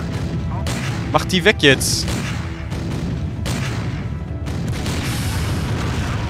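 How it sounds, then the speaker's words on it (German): Repeated artillery booms and gunfire from the strategy video game Empire Earth, rumbling steadily under someone speaking German, with a few sharper bangs standing out. "Ich hasse es, wenn die Gegner Artillerie verwenden."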